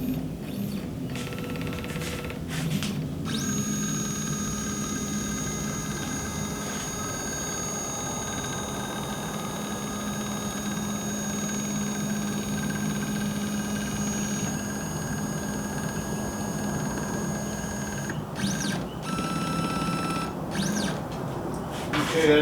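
A CNC machine homes its axes with the spindle off, giving a quiet mechanical hum with stepper motor whine, broken by a few short clicks near the start and end.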